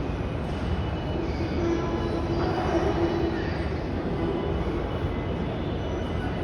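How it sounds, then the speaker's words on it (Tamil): A train runs through a London railway station at night, a steady broadband rumble with a faint wheel-squeal tone partway through, continuous and fairly even throughout. "லண்டன் கொண்டு ட்ரெயின் போகுது"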